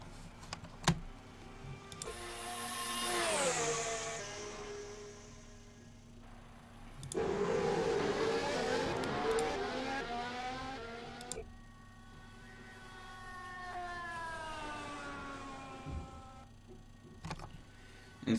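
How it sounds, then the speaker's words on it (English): At Bahrain preseason testing in 2016, race car engines whine past in several long, sweeping passes, pitch climbing and falling through the gears. One car has a gearbox problem. "As Tewson once again just touring around with this gearbox problem his car's got"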